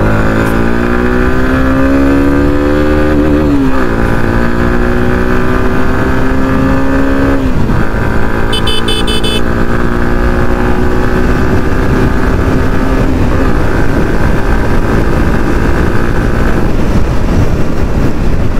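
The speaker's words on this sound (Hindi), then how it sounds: "पहले इसका एग्जॉस्ट नोट आपको एक बार सुना देता हूं।" A 2024 Suzuki Gixxer SF 150 BS-6 motorcycle's exhaust runs loud and close, its note climbing through repeated revs and dropping back before settling into a steady drone.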